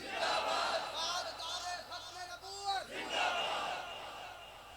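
A large crowd at a religious gathering roars a unified slogan in reply to a call, voices swelling together loud and close. The shout rises, dips for a moment, then surges again before fading.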